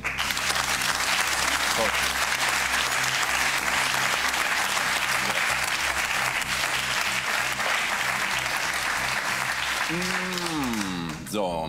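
Studio audience applause on a German TV cooking competition show, a steady dense wash of clapping lasting about eleven seconds, with a host's voice speaking briefly over it near the end.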